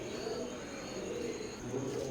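A pair of Royal Teddy breeder pigeons coo softly in low, rolling calls, faint and nearby against a quiet background, with no speech.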